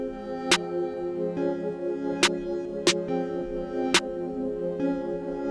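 Snare hits, a synth arpeggio and a sustained synth pad play together in a hip-hop beat: a steady tonal bed with sharp snare cracks landing at spaced intervals, including an accent snare on the upbeat, with no voices.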